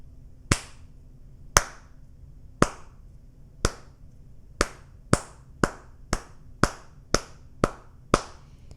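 Hands clap a steady rhythm: a dozen sharp, close claps, spaced widely at first and then coming in quicker, evenly timed pairs, alone against a quiet room.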